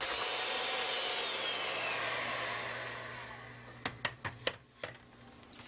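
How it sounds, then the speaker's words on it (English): An electric mixer mashing room-temperature butter with milk whirs steadily and then fades, followed by a quick series of sharp knocks and taps as it bumps the bowl; no one speaks. "I'm going to mash them up with my electric mixer"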